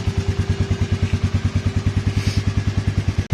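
A Royal Enfield Meteor 350 single-cylinder engine idles up close, a steady, even thumping beat of firm low pulses repeating about eight times a second, loud and uninterrupted.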